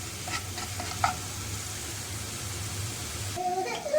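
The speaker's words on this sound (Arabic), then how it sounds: "هننزل اهو بشويه السبانخ اللي انا سايباهم، نشوحهم كده." Spinach and garlic sautéing in a pot give a soft, steady sizzle with a few light stirring clinks early, then a shift in tone near the end with brief scraping.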